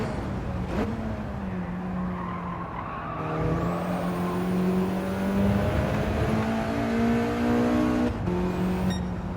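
A race car in the Gran Turismo 7 game spinning its wheels under acceleration, engine droning and revving with a tonal tyre squeal rising over it, steady and close for several seconds.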